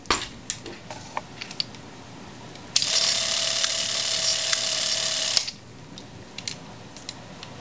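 A short burst of whirring clockwork mechanism from a Bolex H16 Supreme 16mm film camera running at 64 frames per second for a few seconds, a steady mechanical buzz with a faint tone, then stops; quiet ticks and clicks surround it.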